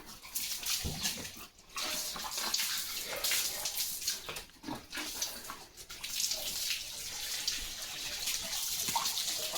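Water gushes steadily from a hose pipe outdoors on a farm, a continuous splashing rush lasting nearly ten seconds, with a dog moving and whimpering nearby.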